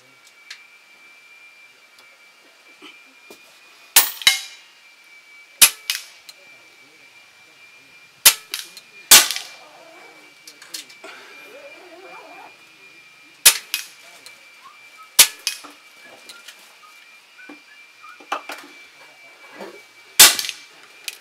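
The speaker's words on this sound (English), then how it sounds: "By the way, it's five shots" Air rifle shots from a Steyr firing JSB Hades pellets outdoors at a range, about eight sharp cracks spaced irregularly, each with a brief ringing tail, over a faint steady tone and quiet background.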